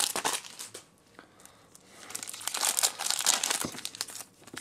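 A Pokemon booster pack's foil wrapper crinkles and tears open close by, a busy run of crackling and rustling that swells in the second half.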